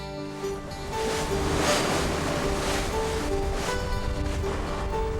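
High sea waves roll and crash near the remote island of Seogeochado off Jindo, a loud continuous roar of surf with wind buffeting the microphone and a faint steady engine-like hum beneath.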